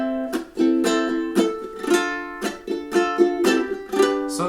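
A ukulele strums the four-chord pattern of Miley Cyrus's song Flowers, bright rhythmic chord strokes in a steady groove, close and clear with no voices.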